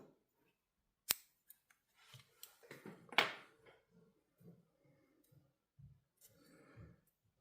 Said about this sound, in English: So just cut yourself some bucktail.